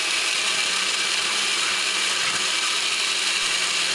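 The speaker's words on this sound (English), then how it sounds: "if the blender is not able to blend freely, it's going to strain the motor" A blender whirs continuously, churning fruit, oats and stout into a thick drink, its motor a dense, loud, steady roar with a faint mechanical rattle and no pauses or voices.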